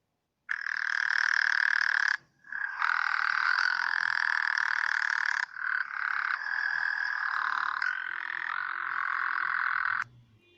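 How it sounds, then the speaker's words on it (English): A frog croaks in long, loud, buzzing trills, three or four sustained calls with brief pauses between them, heard alone and close. "the sound of frog is called croaks"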